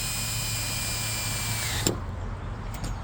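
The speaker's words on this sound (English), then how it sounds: "Let's get the drill going the right way." A power drill being used on a gate lock runs steadily with a loud, close whine, then winds down partway through with a faint click and a short burst at the end.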